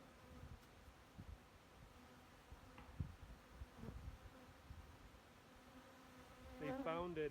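Bees swarm around a Tim Hortons cup filled with Ultra Bee pollen substitute powder outdoors in a bee yard. A steady, faint, close buzzing continues throughout and swells toward the end.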